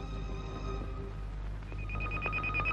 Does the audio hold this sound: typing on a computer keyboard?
no